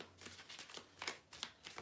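A tarot or oracle deck being shuffled by hand before a reading, a quiet run of soft riffling and flicking card sounds, close and faint with no talk.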